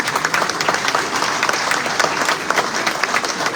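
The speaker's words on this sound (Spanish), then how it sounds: "pido un aplauso para ellas" Dense, sustained clapping from an audience at the opening of a surrealism art exhibition, steady and fairly loud throughout with no voices over it.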